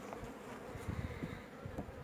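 Quiet, close buzzing of many honey bees in an open hive, a soft continuous hum with occasional louder passes of individual insects.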